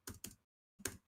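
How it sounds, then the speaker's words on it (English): Three quiet key clicks come from a computer keyboard: two quick taps together, a short pause, then one more, close but faint. "Jesse, you're just typing stuff."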